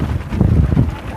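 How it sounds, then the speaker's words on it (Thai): Wind buffets a microphone outdoors in a steady, loud low rumble that swells midway, with no other sound standing out. "ลมแท้นี่"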